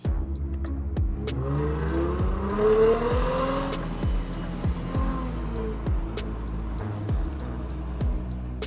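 A Mercedes-Benz C280 W204 Avantgarde AMG with a V6 engine driving, its engine note rising and falling through gear changes with steady road hum, a few regularly spaced clicks over the top, and no talking.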